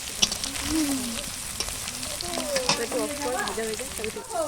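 Pieces crackle and sizzle steadily in hot oil over a wood-fired stove while voices talk nearby.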